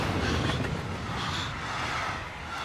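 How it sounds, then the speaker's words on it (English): Train rolling along rails in the Beyond Two Souls video game, a steady broadband rumble with faint rhythmic clatter, loud and continuous with no talk. "They're not getting off that train."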